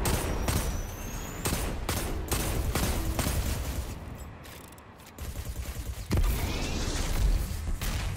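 Rapid bursts of gunfire from the video game Destiny 2, with clustered shots and mechanical clacks coming in uneven volleys, loud and close, with a brief lull near the middle before the firing resumes.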